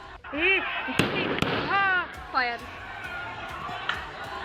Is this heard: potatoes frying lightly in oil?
no